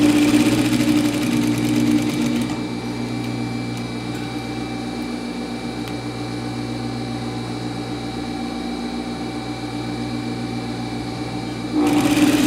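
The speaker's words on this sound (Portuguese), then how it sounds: "E aí vou costurar a beirada toda aqui do casaco, ó." Sewing machine running steadily along the edge of a double-faced coat, a close continuous motor hum and needle drone with a slight change in pitch partway through and no speech.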